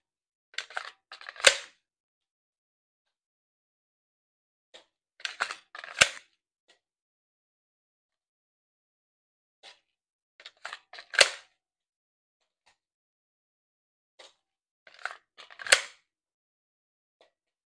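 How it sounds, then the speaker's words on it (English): Pistol tactical reloads during dry fire practice: four separated clusters of sharp metallic clicks and clacks, magazine handling and slide snaps, fairly quiet in an otherwise silent room. "Second thing I want to focus on are my tactical reloads."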